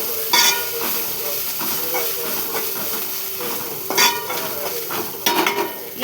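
Turmeric and ginger being stirred with a utensil in a pan over low heat, soft scraping and clinking strokes with a few sharper metallic knocks against a quiet steady background hiss.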